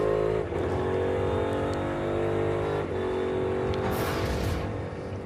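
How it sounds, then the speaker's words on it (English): A NASCAR stock car downshifting on track, loud and close: the engine roars, drops sharply in pitch twice as gears change, then climbs again. "Listen to him downshift."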